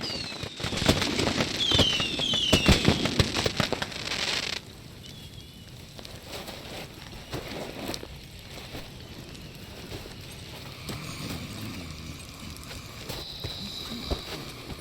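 Fireworks in the video game Far Cry 6 pop and crackle densely for several seconds with a whistling streak, then thin out into scattered distant bangs over an ambient hum.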